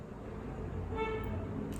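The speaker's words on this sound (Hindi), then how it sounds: "I know there was a horn right." A car horn honks outside, a short tonal toot partway through, heard at a distance over a low rumbling room background.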